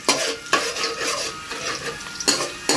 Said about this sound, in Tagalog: Yan, halo-halo lang natin.